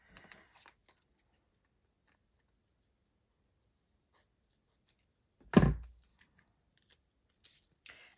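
Foam tape is cut during a papercraft project, giving a single short, close snip in an otherwise quiet room, with a few faint ticks afterward.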